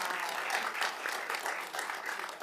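An audience at a city commission meeting applauds, with dense, steady clapping from many hands that is heard at a moderate distance and continues throughout.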